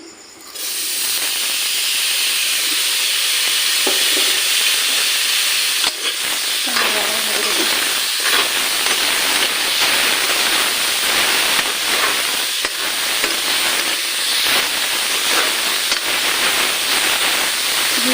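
Grated coconut cooking over a low flame in a hot wok, producing a loud, unbroken hiss with soft rustling stirs and scrapes running steadily for the whole stretch.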